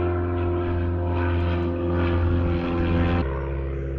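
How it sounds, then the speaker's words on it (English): A propeller float plane flies past over a lake, droning steadily nearby, a constant engine hum that holds for the whole stretch with no voices. "Got a float plane going by."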